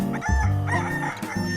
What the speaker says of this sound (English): the cockerel cock-a-doodle-dooed